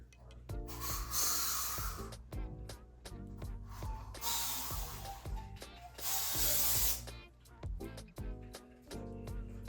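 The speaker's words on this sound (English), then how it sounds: "so I've never used spray paint either, so we'll see what happens" Several long hissing bursts from a spray can, separated by short pauses, with a low hum and clicks underneath.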